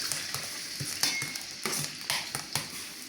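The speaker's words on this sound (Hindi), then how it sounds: "अब इसके अंदर डालूंगी प्याज, बड़ा मैंने काटा हुआ ब्रीक ब्रीक" Chopped onions sizzling in about two spoonfuls of hot oil in a pan for moong dal tadka, a steady close hiss broken by repeated scrapes and stirs of a utensil.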